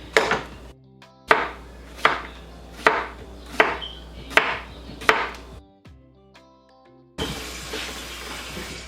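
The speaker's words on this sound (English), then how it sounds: "I got this cucumber right here, and I'm gonna slice up" Knife chopping through a cucumber on a cutting board, about seven crisp, evenly spaced cuts close up, followed by a brief pause and a rustle.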